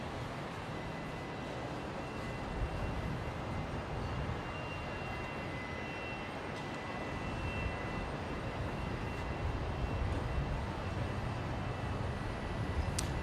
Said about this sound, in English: Wearing the One World livery today, the Qantas A330